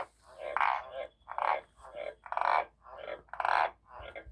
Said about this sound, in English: think I can hear a frog